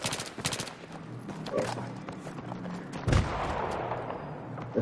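Pistol shots in a Battlefield 3 multiplayer match on a street, heard as sharp, quick single shots in an irregular rhythm among other distant gunfire and explosions, with one loud, heavier blast near the end.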